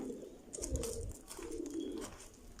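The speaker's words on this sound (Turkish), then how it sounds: "bu kuşlar Şeref Ağa'nın kuşları." Soft, low pigeon coos roll in slow repeated phrases, fairly faint against a hissy background, with a few bird flutters and chirps.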